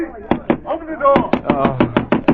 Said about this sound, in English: What's that pounding?